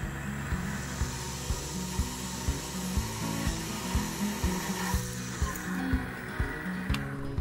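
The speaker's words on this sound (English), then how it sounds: "Next, I'll be drilling a pilot hole." A drill grinds steadily through metal with a 3/16 inch bit, drilling a pilot hole on a Grizzly G4000 9x20 lathe compound clamp, low rhythmic chatter, close and continuous, with faint thumps along the way.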